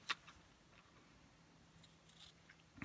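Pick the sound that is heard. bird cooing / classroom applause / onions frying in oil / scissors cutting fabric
scissors cutting fabric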